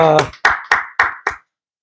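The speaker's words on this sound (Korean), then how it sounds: "하나님께 우리 감사와 영광의 박수를 올려드립니다" A few sharp, close handclaps land in a slow regular rhythm, about five in all, right after a brief sung or spoken tone, closing a Sunday worship service at a Korean Full Gospel church.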